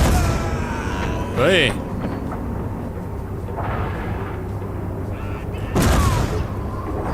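An 88 mm flak gun firing in the video game Übersoldier, two heavy booming blasts a few seconds apart over a constant loud rumble, with a brief voice between them.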